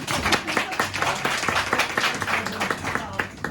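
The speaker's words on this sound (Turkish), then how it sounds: "Moral alkışı verin ya." A small group claps briskly for a few seconds, with voices murmuring underneath the applause, on a trip in Cappadocia.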